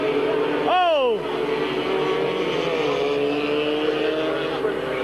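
Race cars at Midvale Speedway in 1999, a loud pack of engines roaring steadily under a caution, with one car's engine note sweeping down sharply as it passes close by, while a commentator talks over the track noise.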